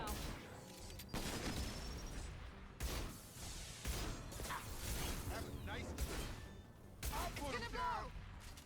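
Weapon fire in the Mass Effect 2 video game, a run of sharp blasts and mechanical clanks over a steady game soundscape, with a voice talking between the shots.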